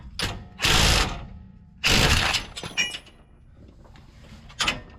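Socket ratchet turning a bolt during a Jeep rear suspension lift kit install in a driveway, two bursts of loud, rapid metallic clicking followed by scattered smaller clicks and a final short burst, close and prominent.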